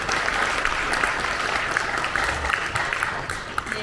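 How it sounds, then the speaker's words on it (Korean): At a mayor's New Year press conference in Goyang, an audience gives a full round of applause, steady and fairly loud, with a few sharper claps standing out near the end. "여러분 다시 한번 큰 박수 부탁드립니다."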